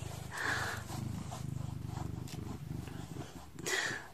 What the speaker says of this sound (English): What a beautiful purr you have.